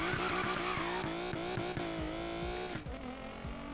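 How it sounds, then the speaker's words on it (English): A car engine in Need for Speed Payback revs hard through a launch, rising in pitch with repeated quick shifts and tire chirps, loud and close with no talking. "Do a little bit of a launch with it."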